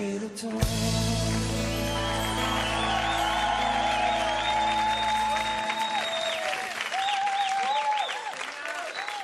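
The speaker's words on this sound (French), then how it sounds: "Je pense qu'on peut redoubler d'applaudissements pour l'interprétation" TV singing show audience applauding and cheering after a contestant's song, loud sustained clapping from a large crowd with scattered whoops, over a final held music chord that cuts off partway through.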